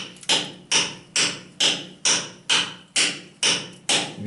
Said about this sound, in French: Alors c'est ma première expérience du marteau burin.